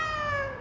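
A cat lets out a single loud, drawn-out meow close by, set within a Filipino aswang horror audio story.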